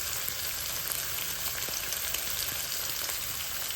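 Bok choy with instant noodle seasoning is stirred in a frying pan, hissing in a steady, even sizzle with faint scraping from the stirring, quiet and close, with no voices.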